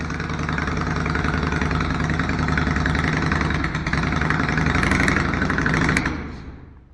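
A Yamaha XV 535 Virago motorcycle engine idles while warming up after assembly, holding a loud, close, steady rumble for about six seconds before it dies and fades out.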